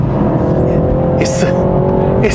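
A 2023 BMW 330i M Sport engine in sport mode hums and rises steadily in pitch as it accelerates, loud and continuous, with a voice talking over it.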